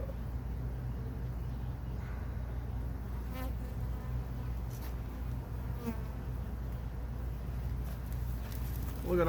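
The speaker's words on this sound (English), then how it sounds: "That's a freshly hatched drone bee right there." Freshly hatched stingerless drone honey bees buzz steadily inside an open hive, a dense continuous hum close to the ear with a few brief sharper passes of individual bees.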